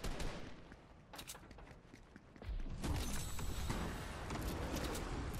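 Gunfire in the battle royale game Fortnite: dense, muffled volleys of shots crackling continuously over a busy rumbling battle mix, growing louder and denser after a brief lull in the middle.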